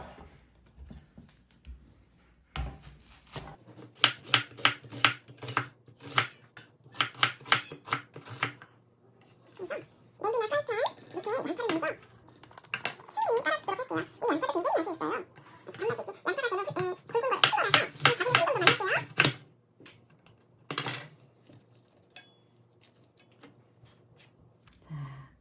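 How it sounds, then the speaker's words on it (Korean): A knife slices onion on a cutting board, bursts of rapid close crisp chops in several runs, with a single sharp knock near the end as the pieces go into a pot. "그럼 양파를 먼저 썰어서 냄비에다 할게요."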